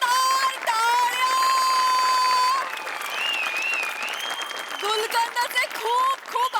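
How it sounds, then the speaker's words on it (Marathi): Loud audience applause at a Marathi stage comedy show, steady and sustained clapping from a full hall with music playing along, then tapering into scattered claps near the end. "जोरदार टाळ्या!"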